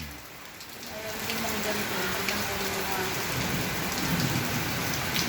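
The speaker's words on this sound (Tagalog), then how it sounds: "Ulan, ang ulan, tag-ulan." Steady heavy rain pouring down, a dense continuous hiss of drops on surfaces that grows slightly louder after the first second.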